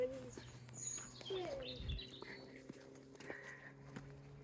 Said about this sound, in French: On a les oiseaux qui chantent.